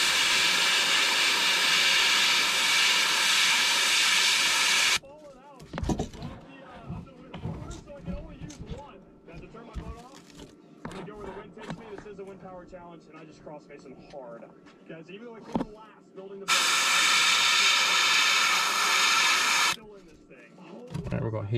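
An airbrush sprays 4050 UVLS clear coat over a painted shad fishing lure, a steady broadband hiss in two bursts of several seconds each, loud and close, with a stretch of talk and handling noise between them.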